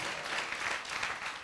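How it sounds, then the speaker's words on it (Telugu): A church congregation claps together in praise of God during a sermon, a brief, dense wash of applause heard somewhat distant and moderately quiet. "చప్పట్లు కొట్టి దేవునికి స్తోత్రం చేద్దాం"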